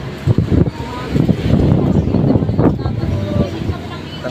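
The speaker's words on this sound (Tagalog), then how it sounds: "Oh, lakas ng hangin naman." Strong wind buffets the microphone outdoors near a hardware store, a low rumbling roar that gusts unevenly throughout while someone talks over it.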